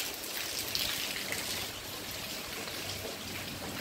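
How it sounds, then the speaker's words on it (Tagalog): Steady rain falls close by, a dense even hiss of drops with no voices, holding constant throughout. "Umuulan pa."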